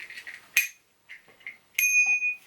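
A bicycle bell on a 2020 Calibre Bossnut mountain bike gives two bright metallic dings, the second ringing out longer, close by, amid soft handling noises in a quiet room.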